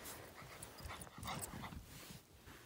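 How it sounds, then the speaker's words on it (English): A dog whimpering faintly outdoors in the cold, soft yips and whines scattered over a couple of seconds amid low background noise. "Is that a dog?"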